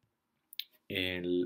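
A computer mouse clicks twice quickly and quietly while someone works in the Boneninja anatomy software, followed at once by a person speaking.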